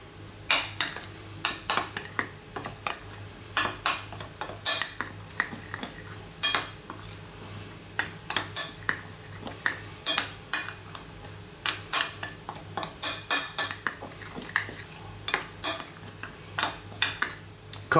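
A utensil stirs and clinks against a bowl while seasonings are mixed into about 1.5 cups of flour for fried chicken, giving repeated sharp scraping taps in an uneven rhythm, close and fairly loud, with no talk.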